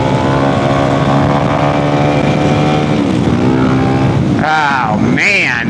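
A supermoto motorcycle engine revs hard during a wheelie, loud and close, holding a steady high drone before climbing and swooping in pitch in two sharp surges at the end.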